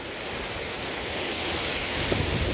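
Steady roar of wind and breaking ocean swell around a sailboat running downwind across the Bay of Biscay in building seas of about four meters, loud and continuous with gusting buffets on the microphone.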